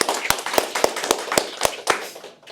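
A roomful of people at a sales results meeting claps for Mari, a close, fairly loud round of applause with several sharp, prominent individual claps standing out at a quick rhythm before it tapers off.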